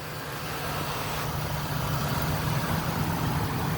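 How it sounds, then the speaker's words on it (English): A cold-started 2002 Lincoln Blackwood with the 5.4 V8 idles steadily outdoors, a close, even engine drone with a low hum and no talking. "I'm gonna come outside while it's still cold so you can listen to the engine."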